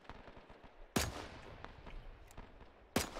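Gunfire in the ARMA 3 IFA World War II mod during a 1942 Operation Torch beach landing: two loud, sharp shots about two seconds apart, with scattered fainter distant pops of battle in between.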